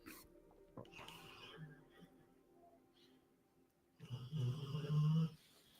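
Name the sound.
dog snoring loudly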